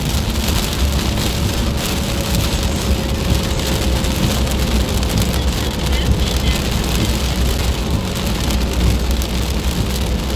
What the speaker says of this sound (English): the raindrops get huge